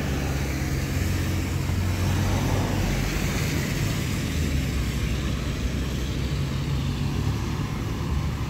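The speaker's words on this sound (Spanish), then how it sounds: "me da miedo cuando pasa mucho carro pesado por el puente" Heavy vehicles rumble continuously across a bridge in La Lima, Cortés, Honduras, a steady loud low roar of traffic with engine drone holding throughout and no pauses.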